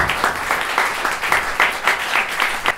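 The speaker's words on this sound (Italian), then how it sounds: "Per cui vorrei un applauso a tutti questa iniziativa." Steady applause from a crowd at a live jazz concert, many hands clapping continuously with rhythmic swells, fairly loud and without speech.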